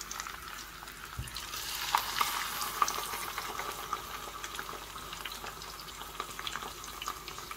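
Unfloured fish frying in hot oil in a pan for attiéké, a soft continuous sizzle and bubbling heard close, with no talking.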